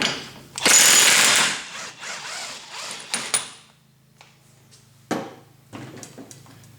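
Axle nut, 32 mm, being removed on an S550 Ford Mustang, heard as a loud burst of rattling, buzzing tool noise followed by intermittent metallic clicks and clanks, then a few short sharp bursts after a quiet gap.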